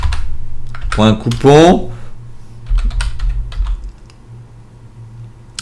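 Quick bursts of typing on a computer keyboard, rapid key clicks close by with someone talking over and between them.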